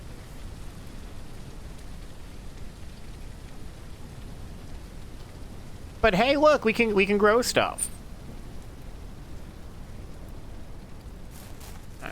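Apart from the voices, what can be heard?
rain falling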